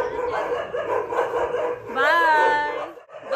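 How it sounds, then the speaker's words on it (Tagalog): A large dog at a buffalo house near a temple in Panipat, India, gives a drawn-out whining bark over ongoing talk, rising near the end of a noisy outdoor stretch. "May aso sila."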